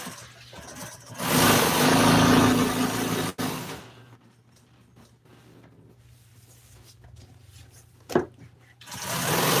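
An upholstery sewing machine stitches a 1955 Chevy car seat cover, running as a loud, steady whir for about two seconds, then dropping to quiet handling noises before briefly starting up again at the end.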